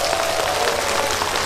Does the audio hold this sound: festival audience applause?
yes